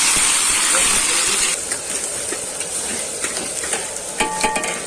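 Onion frying in oil with whole garam masala spices and bay leaf starts with a loud hiss, then settles into a softer sizzle broken by scraping stir strokes, with a voice heard briefly.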